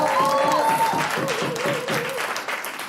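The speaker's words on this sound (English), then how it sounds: "Give your parents and relatives who helped you along the way a rousing round of applause." Graduation-ceremony audience gives a steady round of applause for parents and relatives, dense clapping filling the hall while a voice speaks over it.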